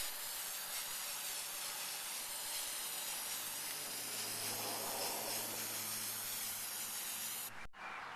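A spray paint can hisses in a steady, continuous spray for about seven and a half seconds, close and fairly loud, then cuts off abruptly.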